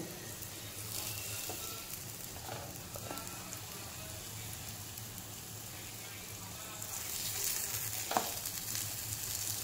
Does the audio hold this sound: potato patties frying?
yes